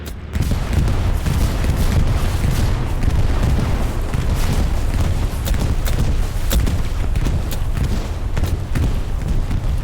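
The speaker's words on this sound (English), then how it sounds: "Come on, bombing run." Aerial bombing run on a World War II battlefield in a video game, set at the Utah Beach offensive: a continuous loud wall of rumbling explosions and booms with sharp bursts of gunfire layered throughout, dense and sustained.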